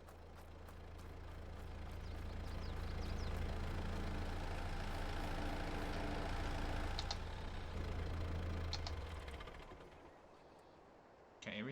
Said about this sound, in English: let me shut some engines off